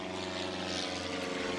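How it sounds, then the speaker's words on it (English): An airplane passes overhead as a steady, droning engine roar with a propeller-like hum, loud and continuous throughout, with no talking. "Oh, airplane."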